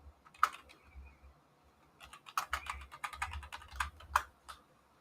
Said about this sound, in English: Just typing to her now.